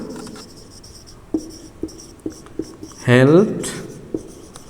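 Chalk or marker strokes on a board during a Bengali-language grammar lesson, a series of short sharp taps and scratches at an uneven pace with one longer squeaky stroke, heard close under the teacher's talk.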